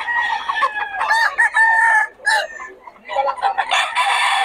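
A Sweater bloodline gamefowl rooster clucks and crows loudly at close range in repeated bursts, with short pauses between calls.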